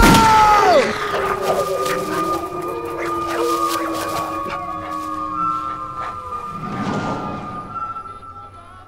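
Drawn-out canine howls rise and hold over several seconds, with scattered yelps and barks around them, fairly close and loud.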